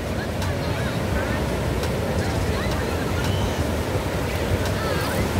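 Ocean surf at Copacabana beach in Rio de Janeiro, a constant loud wash of breaking waves mixed with wind buffeting the microphone, with faint voices from the beach in the background.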